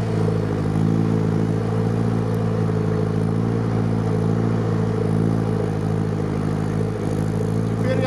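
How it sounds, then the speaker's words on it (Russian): A GAZ-63 truck drives off-road with a steady, loud low engine drone and rumble, plus some rattling and clatter from the body, continuous throughout. "Теперь я верхом на ГАЗ-63."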